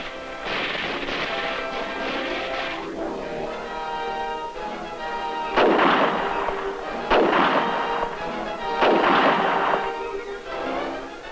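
Heavy-weapons artillery fires during a 1966 US Army exercise in Taiwan. Several loud, booming blasts ring out in an irregular sequence, some layered over a sustained, resonant rumble that sounds like film-era field recording.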